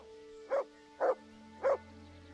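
A dog in the Kingdom Come: Deliverance video game barks three times at an even pace while tracking a scent in the woods, each bark short, moderately loud and close, with quiet between them and no talk.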